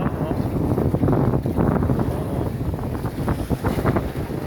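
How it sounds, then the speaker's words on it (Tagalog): Strong sea waves wash and slap around a small boat on stormy, windy water, a dense, steady churning roar with gusting wind noise on the microphone throughout. "Lakas ng alon"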